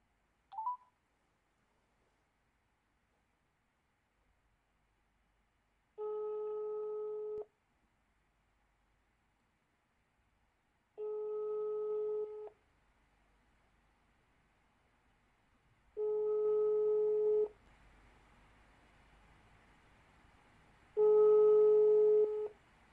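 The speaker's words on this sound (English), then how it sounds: "just going to give that person a call." A telephone call being placed: a short dial tone blip, then four evenly spaced, steady tone bursts of a busy signal that grow slightly louder, with quiet gaps between and no talking.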